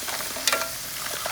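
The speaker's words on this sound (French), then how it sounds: "On va faire griller un peu, faire cuire pour qu'il absorbe les parfums de gingembre et des oignons." Lobster frying gently over low heat with ginger and onions, a steady soft sizzle with one brief louder crackling burst partway through.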